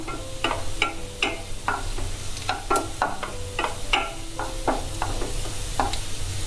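Urad dal fries in oil in a pan, a close steady sizzle punctuated by frequent sharp scraping and tapping strokes of a spoon stirring the lentils.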